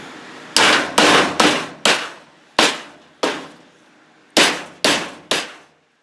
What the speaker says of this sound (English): hammering stuff into place